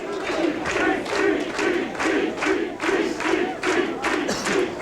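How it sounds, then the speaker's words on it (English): Bowling fans at a 1997 PBA Brunswick Bayer TPC tournament match clap steadily in rhythmic unison, a loud, continuous crowd pulse filling the arena throughout. "the fans are in constant clapping mode here tonight"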